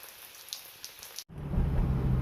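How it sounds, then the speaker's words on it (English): Steady rain pattering on a surface during work on a C5 Corvette, a lighter patter with scattered drops that cuts off abruptly and returns as a louder, heavier rush. "It wouldn't be a day of me working on the Vette without it raining, huh?"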